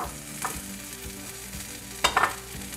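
Boiled chickpeas tipped into a hot pan and stirred, a soft steady sizzle with scraping spoon strokes and a brighter clatter near the end, close up, with no voices.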